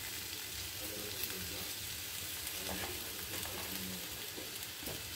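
Mashed boiled potatoes, about three of them, fry with a steady low sizzle in a pan while being stirred, with faint scraping taps from the utensil running under the continuous hiss, close and moderately quiet.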